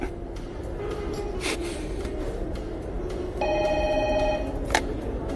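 A telephone rings over a low background hum, giving a short burst of bright electronic ringing partway through, with soft noises before and after.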